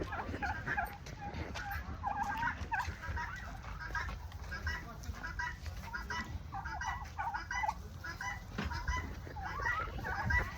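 Several turkeys on a turkey farm gobble repeatedly amid clucking fowl, a busy overlapping chorus of bird calls close by and continuous throughout.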